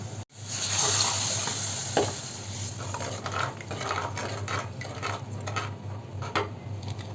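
Kottayam-style fish curry stirred in a pan after tamarind water is poured in, a low steady simmer and sizzle with repeated light scrapes and clinks of a utensil against the pan, close and without talk.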